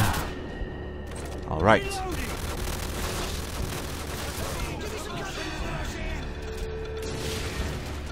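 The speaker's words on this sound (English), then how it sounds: "Stop shooting at me." Gunfire in Call of Duty: Modern Warfare rattles steadily beneath a man's brief speech, with one louder burst early on and continuous battle noise throughout.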